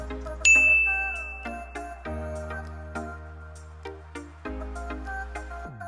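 A single bright, ringing ding rises sharply over steady background music and lingers for a few seconds before fading.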